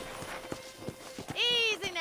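Hooves clip-clop in a slow, spaced rhythm from a horse on a ranch in the Red Dead Redemption video game, followed by a loud, rising whinny near the end.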